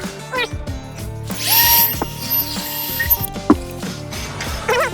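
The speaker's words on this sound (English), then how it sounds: "You gotta drill out these holes a little bit" A small power drill whirs in short bursts while opening holes in a model railroad caboose industry part for a Free-Mo module, close by with clicks and handling noises in between.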